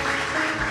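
A church congregation bursts into applause during a sermon, a dense, steady wash of many hands clapping at once, loud and close, with a faint murmur of voices or music beneath it.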